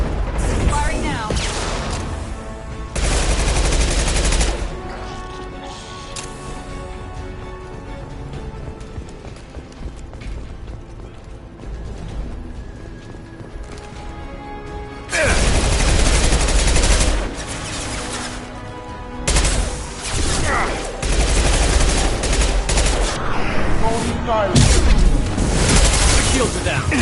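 Mass Effect 2 weapons fire in rapid, loud bursts of shots and booms that come and go in waves over a dense battle soundscape, with voices talking now and then.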